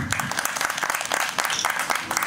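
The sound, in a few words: audience applause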